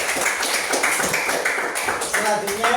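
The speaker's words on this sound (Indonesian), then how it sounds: "Baik, tepuk tangan." Students in a classroom clap their hands together: a steady patter of many hands in quick rhythmic bursts, fairly close and loud, with a voice or two faintly mixed in toward the end.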